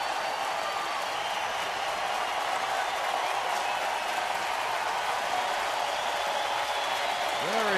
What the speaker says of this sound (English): Very enthusiastic crowd tonight, really into this game.